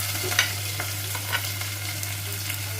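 Green chili and garlic fry in a pan with a continuous close sizzle and a few light stirring clicks over a low steady hum.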